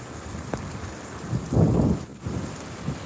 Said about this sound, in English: Standing out in the rain and shit.